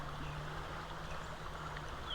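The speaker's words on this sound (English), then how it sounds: "Hey, that water's moving good." Guadalupe River water rushes past on a rainy day, a steady, close wash of flowing current that holds at an even level throughout, with no talk.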